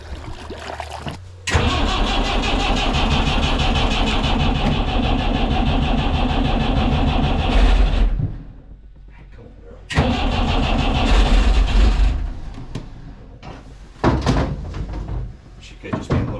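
The inboard motor of a 64-person lifeboat cranks and fires, running loud and rough for several seconds before cutting out, then restarting twice more, with a thud near the start and voices talking over parts of it.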